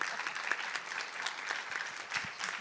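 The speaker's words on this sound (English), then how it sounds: "She needs applause for saying that." Audience applause during an onstage conversation, a brief, even burst of clapping from a crowd, moderately loud and continuous.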